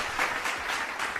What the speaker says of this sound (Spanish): un aplauso de bienvenida, por favor, a nuestra querida invitada Pilar Núñez